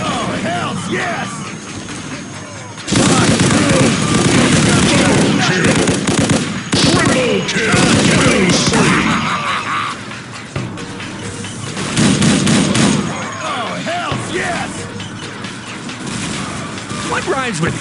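Dense, sustained weapon fire in Unreal Tournament 2004 with the Ballistic Weapons mod, a loud continuous roar of shots and impacts that swells and dips, with game voices calling out over it.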